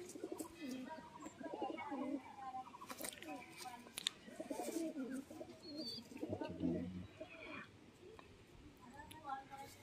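Madrasi pigeons coo in low, repeated bursts at close range, with a few chirps, while someone talks quietly over them.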